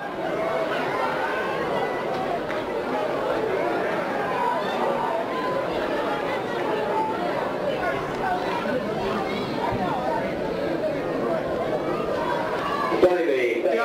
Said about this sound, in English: Got a nice crowd.